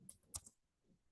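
A few quick keystrokes on a computer keyboard, faint and close, clustered in a short burst of clicks.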